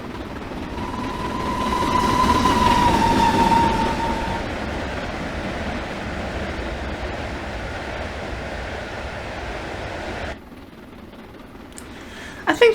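A passenger train in a video game rolls along the rails from Glasgow Central toward Carstairs, a steady broad rumble with a faint tone early on, ending in a brief quieter stretch and a couple of sharp clicks.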